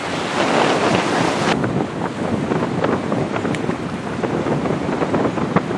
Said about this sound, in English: We're out here on Goose Island Pier in hurricane force winds.